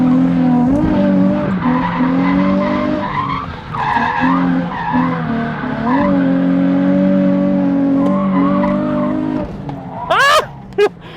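A completely stock Nissan 350Z drifting, tires squealing in long sustained wails that waver and break over a revving engine, with a few short sharper chirps near the end; a voice speaks briefly at times.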